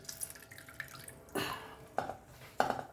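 Water squeezed from salted eggplant drips into a container: three distinct drops land about half a second apart over a quiet, faintly hissing background.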